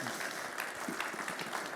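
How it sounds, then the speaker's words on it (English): Audience applause for speaker Maksym closing a conference talk on drone warfare in Ukraine, a steady dense clapping that fills the whole stretch at moderate level. "big round of applause for Maksym"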